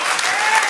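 A church congregation claps together in praise during a Spanish-language sermon, a short dense burst of applause filling the room.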